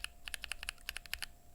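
Typing on a keyboard with stock Gateron Slate linear switches: about fifteen quick, crisp keystrokes in an uneven run, close up and alone in a quiet room.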